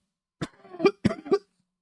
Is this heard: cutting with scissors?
no